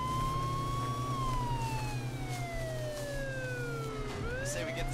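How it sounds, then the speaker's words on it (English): Vehicle sirens wail in the video game H1Z1, a sweeping rising and falling tone over a steady engine hum, loud and continuous with no talking. "Turn on your sirens."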